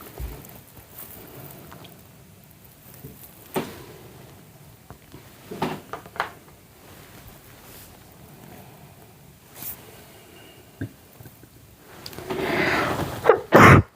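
A sharp sneeze bursts out near the end after quiet room noise with a few scattered clicks and rustles earlier.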